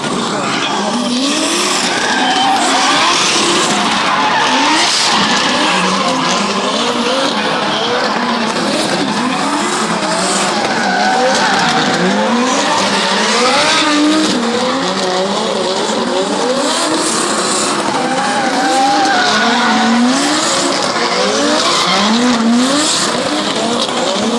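Motorcycle engines rev and wail in rising and falling sweeps at a freestyle motocross show by rider Aras Gibiežas, loud and continuous beneath an announcer's amplified commentary and crowd ambience.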